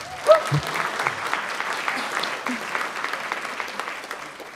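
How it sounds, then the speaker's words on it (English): An audience applauds at a State of the City address hosted by the Fairfield Chamber of Commerce, a dense and steady wash of many hands clapping that holds evenly from start to finish. "Can I get an applause?"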